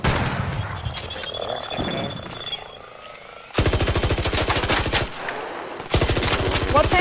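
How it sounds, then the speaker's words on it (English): Loud rapid automatic gunfire from Arc enemies in a video game, arriving in two long sustained bursts after a quieter, muffled opening stretch, with no talking. "I'm getting shot at by fucking Arc."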